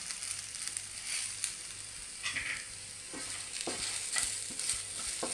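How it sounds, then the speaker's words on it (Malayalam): Fried okra is stirred into a masala in a pan, with scraping spoon strokes repeating over a continuous sizzle, close by and without speech. "എല്ലാം കൂടെ ഒന്ന് ഇളക്കി മിക്സ് ആക്കണം."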